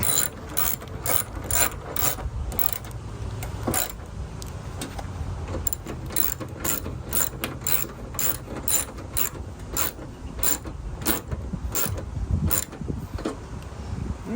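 A ratchet wrench clicks in fast, steady bursts close by while bolts on a Honda Civic headlight assembly are tightened, the rhythm running without a break.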